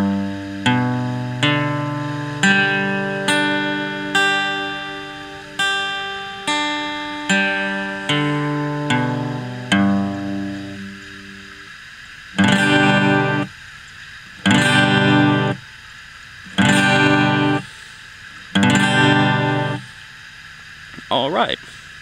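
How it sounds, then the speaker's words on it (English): An acoustic guitar chord is plucked string by string in a steady, even rhythm, each note ringing into the next, then strummed as full chords in four bold strokes with brief gaps between, close and alone. "I'm gonna pluck it individual and then play the chord."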